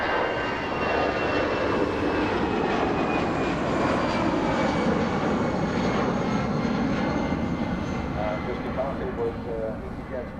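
A passenger airplane taking off at Manchester Airport, heard as a steady, loud engine roar that holds throughout, with people talking over it.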